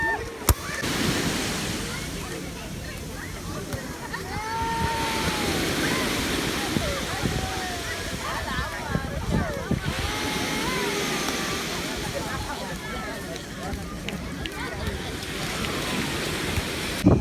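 Sea waves break and wash steadily onto the beach at Belyounech in northern Morocco, a continuous roar of surf with repeated swells and some wind buffeting, heard nearby for over fifteen seconds.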